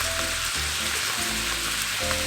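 Spicy pork sausage and chopped white onion fry in a pan with a steady, close sizzle and crackle running the whole time, a few low bumps from the pan mixed in.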